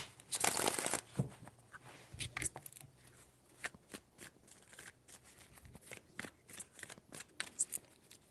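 A tarot deck shuffled close by, with one strong riffle at the start followed by quieter, scattered card slaps and rustles, fairly faint overall.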